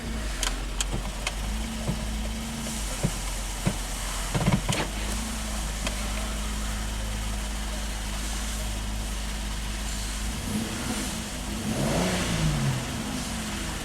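A GM Chevrolet Equinox with a no-crank fault and erratic CAN communications runs steadily, with a low engine drone, several sharp clicks, and a brief rising swell near the end as it revs and the transmission shifts.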